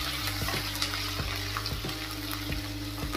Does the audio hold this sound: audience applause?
no